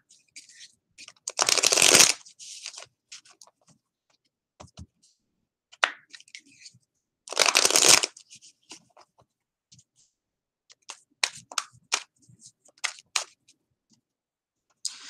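Tarot cards shuffled in two long riffling bursts, then scattered light taps and card handling, close and fairly quiet with no talking.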